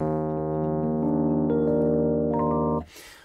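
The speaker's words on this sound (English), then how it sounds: "we have one of the inbuilt electric pianos." An electric piano plays a sustained chord with shifting notes on top, ringing warmly for a few seconds before cutting off into a burst of noise.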